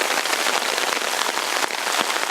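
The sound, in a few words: hard rain falling, water running into a ditch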